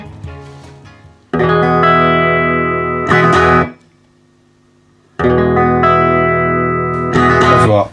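Loud distorted guitar chords through a VOX AC30C2X amp with a newly replaced reverb tank ring out drenched in reverb, twice, each swelling and decaying with a short pause between.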